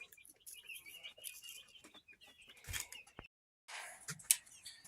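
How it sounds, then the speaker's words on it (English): Newly arrived quail and chickens settling into their enclosure, giving soft, scattered chirps and small calls close by, mixed with light scratching and rustling, with a short pause before a sharper burst of activity. "here are these new birds"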